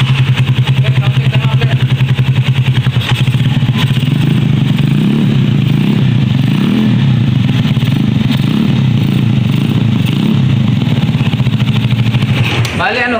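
A motorcycle with a power pipe exhaust runs continuously, a loud, steady rumbling engine note with some clatter, and people talk over it throughout.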